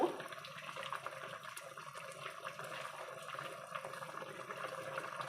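Crab paste liquid, nam pu, poured into a freshly made bamboo shoot curry, giving a steady close trickle and splash of liquid that runs without a break for about five seconds.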